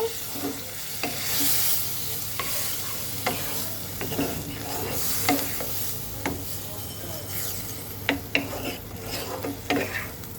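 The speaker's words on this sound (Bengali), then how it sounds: "তো এখন আমি এর মধ্যে দিয়ে দেব হালকা একটু জল আর একটু কষানোর জন্য একটু নেড়ে দেব" Mola fish curry with a splash of water is stirred in a sizzling pan, a spatula scraping and tapping the metal in irregular strokes over a steady fry, with clusters of sharper knocks near the end.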